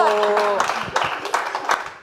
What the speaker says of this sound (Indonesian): Tepuk tangan untuk Bayu.